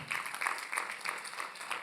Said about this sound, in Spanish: Eso merecía un aplauso, mi hermano.